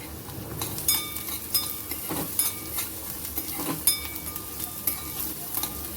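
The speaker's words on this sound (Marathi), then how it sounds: "कांदा छान जराशी परतून द्यायचा आहे." Onion with finely chopped green chili and grated ginger sautéing in a pan for a momos filling, a steady close sizzle broken by repeated scrapes and knocks of a stirring spoon.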